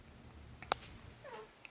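A pet cat at home gives a short, faint call, with a sharp tap or click in the middle of the clip and a quiet rising mew toward the end against soft room background.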